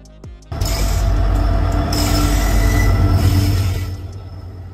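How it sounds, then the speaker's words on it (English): A heavy oil freight train rolls past close by with a loud grinding rumble and high metallic wheel squeal, easing off slightly toward the end. "Oil train, a train primarily used for transporting oil"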